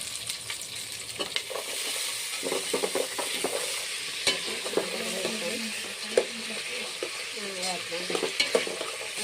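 Tomatoes are stirred into a hot frying pan while cooking biryani, with a steady sizzle under repeated scraping and clinking of the spoon against the pan, close and continuous.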